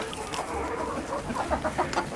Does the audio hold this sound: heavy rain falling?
no